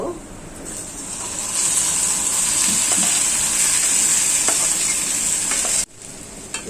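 Greens added to hot oil with browned garlic in a pan hiss and sizzle loudly and steadily, with faint stirring clinks, before the sound cuts off abruptly near the end.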